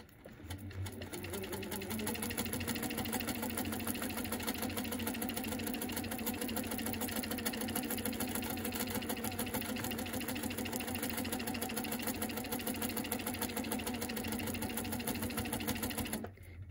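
A sewing machine stitches steadily during free-motion quilting of appliqué, its fast rhythmic needle chatter and motor hum starting up and running evenly and close for over fourteen seconds before stopping.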